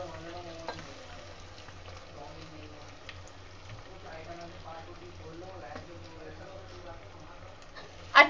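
Mutton curry spices, including cumin, cloves and bay leaf, are sautéed and stirred in a pan with a soft, low sizzle. A voice talks over the frying, and a sharp clatter comes at the very end.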